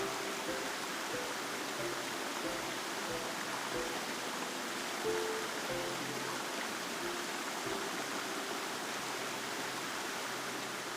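A mountain stream rushes steadily through Baemsagol valley on Jirisan, a dense, unbroken roar of water that stays close and full throughout with no voices.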